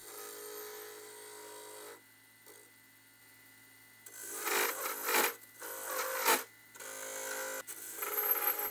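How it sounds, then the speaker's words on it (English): Spindle gouge cutting wood beads on a Nova lathe for a shoehorn handle, a steady quiet whir of the spinning lathe broken by several loud scraping cut bursts that rise and fade in quick succession. "Turning beads like this with a spindle gouge is a very simple process."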